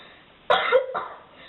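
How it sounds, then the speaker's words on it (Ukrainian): A single harsh cough close to the microphone, followed by a shorter second cough, in an otherwise quiet setting. "Он і кашель"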